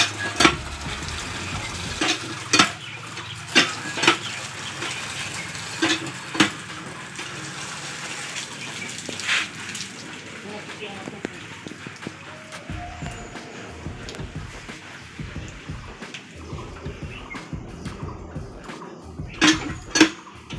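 Chopped taro leaves are washed by hand in a pot of water, giving repeated sloshing and splashing with occasional sharp clinks against the vessel. The sounds are close and moderately loud, and a voice speaks now and then.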